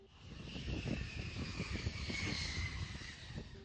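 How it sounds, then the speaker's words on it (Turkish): ANKA unmanned aerial vehicle, a Turkish drone, flying overhead with a steady, moderately loud propeller-engine drone that holds throughout without talk. "Türkiye'nin 30 Aralık 2010'dan bu yana uçuş testleri devam eden insansız hava uçağı Anka gerçekleştirdi"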